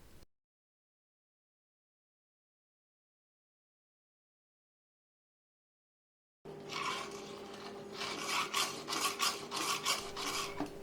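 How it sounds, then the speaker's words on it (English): A round file widening holes in metal pipe couplers for a drill press jig. Long silence gives way to a close run of rhythmic rasping strokes in the final seconds. "The rods were sticking in the couplers, so I widened the holes with a round file."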